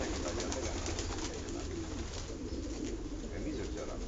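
Pigeons coo softly beneath a constant, heavy wash of broadband background noise, heard outdoors where racing pigeons are kept.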